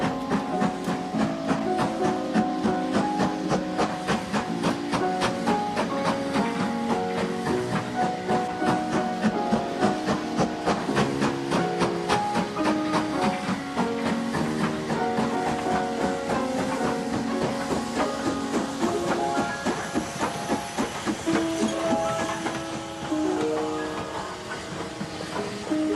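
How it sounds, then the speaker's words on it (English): A model railway sound unit plays a fully laden coal train headed by a 260 N-Class locomotive, number 1406: a continuous, rhythmic clickety-clack and chuffing with steady steam hiss, easing slightly near the end. "here comes a fully laden coal train rattling through Jamestown in the middle of the night"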